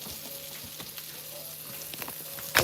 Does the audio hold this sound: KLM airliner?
no